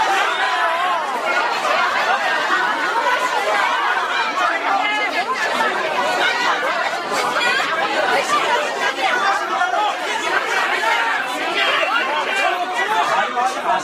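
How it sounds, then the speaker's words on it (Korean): A large indoor crowd at a post-briefing gathering keeps up a continuous, loud murmur of jeering, heckling chatter and scattered laughter throughout, with no clear single voice standing out. "하지 마세요, 야유."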